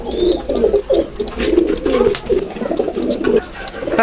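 Teddy pigeons coo repeatedly nearby in soft, rolling throaty phrases, several birds overlapping with faint chirps in the background.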